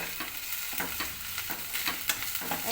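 Amaranth greens are stirred and tossed in a hot pan, giving repeated rhythmic scraping and soft sizzling. The sound is close and carries no voices.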